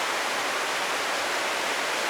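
High, fast-moving river water rushes in a dense, unbroken roar, loud and close throughout with no other sounds.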